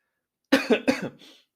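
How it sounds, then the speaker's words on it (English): A short burst of three or four close, harsh coughs in quick succession from someone recovering from COVID, then silence. "I still have a little bit of a cough here"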